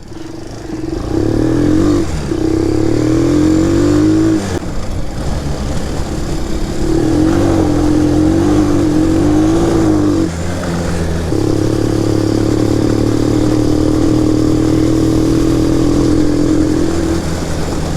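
A Shineray 250 quad's engine drones and revs while riding, rising and falling through several long throttle pulls, loud and close with steady mechanical clatter.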